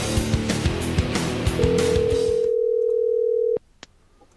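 A steady telephone dial tone holds for about two seconds after a burst of busy noise, then cuts off abruptly, followed by a couple of faint clicks.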